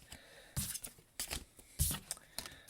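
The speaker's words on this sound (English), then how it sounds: "I've just dropped some cards." Tarot cards dropped and scattered during a reading, giving several brisk papery slaps and rustling bursts spread over a few seconds, fairly close but not loud.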